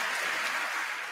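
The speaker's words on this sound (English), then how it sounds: "give yourself an applause" Audience at a women's network marketing event clapping together in a dense, steady burst of applause, close and loud, lasting about a second.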